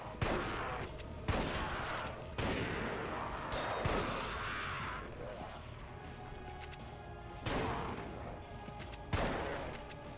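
Shotgun blasts in the video game Resistance: Fall of Man land as about five sharp, loud reports spaced a second or two apart over a busy game background.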